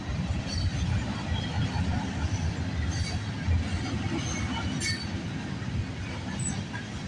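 A CN freight train rolls past at night, a steady, loud rumble of railcars and wheels on track that fills the whole stretch, with faint metallic squeals and clinks above it.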